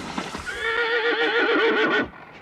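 A horse gives a long, loud, wavering whinny while being shod by a farrier in an old Swedish farm setting, close and clear with faint hoof and handling noises before it.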